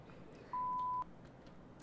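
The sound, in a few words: phone call tone in Roblox video game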